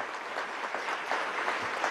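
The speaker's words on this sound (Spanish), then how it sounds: "Para ellos un aplauso por su trabajo profesional" An audience at a national journalism award ceremony gives sustained applause for the honored journalists, a fairly soft, even roar of many hands clapping at a distance.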